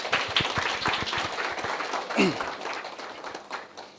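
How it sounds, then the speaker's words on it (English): An audience at a post-election youth dialogue event claps for a speaker called to the front, a dense crackle of hand claps with a voice briefly cutting in partway through. "Give her a round of applause."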